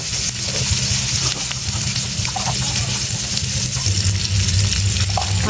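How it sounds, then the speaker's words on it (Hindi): Eggs fry in a pan with ground red chili and turmeric over low heat, giving a continuous loud, hissing sizzle with a faint low hum underneath, no voices. "जिससे अंडे फ्राई होने के साथ साथ इनका रंग भी बहुत खूबसूरत आ जाएगा।"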